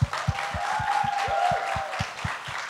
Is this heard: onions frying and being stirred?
no